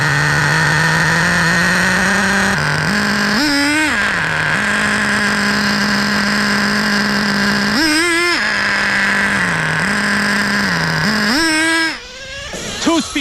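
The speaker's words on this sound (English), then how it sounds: "Let's start it up. I'm gonna prime it first." Traxxas Revo nitro RC truck engine idling with a steady buzzing drone, revving up sharply several times in rising whines, close and loud throughout.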